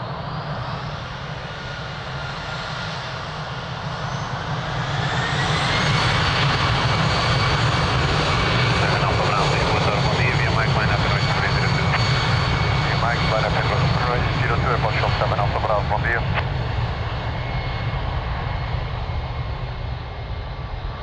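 An airliner takes off at Lisbon Airport, its jet engines swelling from a steady roar to a loud, sustained rumble and hiss that holds for many seconds, with radio chatter faintly underneath.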